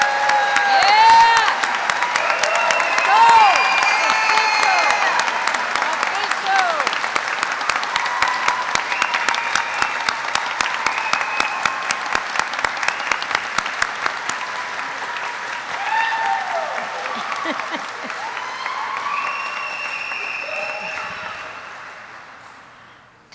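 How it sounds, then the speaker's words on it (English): Sustained, loud applause from a large ceremony audience honouring graduating Warrant Officer Candidate School class 25-14, with dense clapping throughout and some cheering mixed in, tapering off at the end. "Please join me in a round of applause for these outstanding warrant officers."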